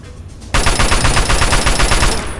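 Rapid automatic gunfire from a firefight in the video game Fallout 3 bursts in loud and close after a brief quieter lead-in, a dense rattling stream of shots continuing to the end.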